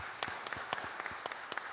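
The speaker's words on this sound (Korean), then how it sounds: "우리 박수로 환영합니다" A church congregation at a Sunday morning service claps to welcome a newly registered member, a short stretch of sparse, rhythmic handclaps at moderate distance.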